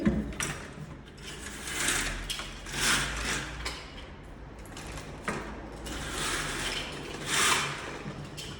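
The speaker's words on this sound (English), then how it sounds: "these are operable with the window crank, so I make sure that my window fully opens, closes," A window crank turns to open a window, giving a rapid, repetitive mechanical whirring and ratcheting in several bursts over about eight seconds, close up with no talking.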